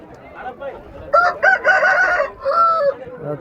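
Fighting roosters at a cockfight ring crow and cluck close by: a few short clucks, then two strong crows, one after the other, loud and near over a quiet background murmur.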